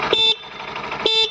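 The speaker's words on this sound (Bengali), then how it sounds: "এরপর যদি হর্নটা আমরা দেখে শোনাই," Two short, bright honks from a Honda Shine 100cc motorcycle horn, heard close and loud with a brief pause between them.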